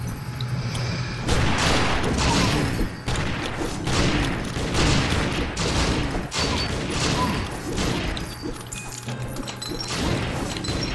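Gunfire and impacts from the video game Secret Ponchos, a dense, continuous barrage of loud bursts, crashes and thuds layered with game music and effects, with no talk over it.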